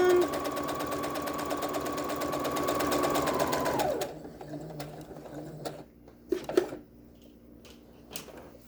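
A sewing machine runs a straight-stitch seam through paracord on a face mask, a steady loud whir for about four seconds that then stops, followed by faint handling clicks and rustles.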